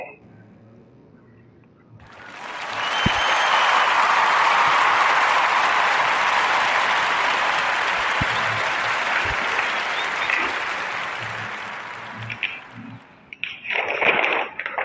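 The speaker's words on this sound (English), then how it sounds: "We want to give a warm round of applause up for Miss" Applause for an actress as a podcast guest swells in after a quiet start and holds as a loud, dense, hissing roar of clapping for about ten seconds. It then cuts off abruptly, followed by a few scattered noises.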